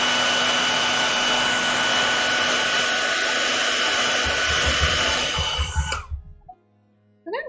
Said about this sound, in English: I'm going to turn on my hairdryer for 1 second.